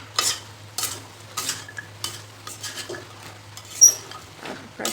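Fried soya chunks being stirred in a pan, close irregular scraping and clattering of a spoon against metal in quick bursts, with a faint steady hum underneath and no speech.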